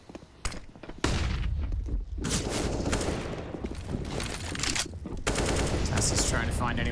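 Counter-Strike gunfire on the Vertigo map in a pro esports match, with pistols and a Galil rifle firing rapid, dense bursts that run almost continuously near and loud, under a commentator's speech.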